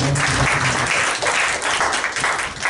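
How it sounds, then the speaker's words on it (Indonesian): A church congregation at an evening Pentecostal service claps together in sustained, dense applause, loud and close throughout, with faint voices mixed in. "Sebelum duduk, tepuk tangan dulu."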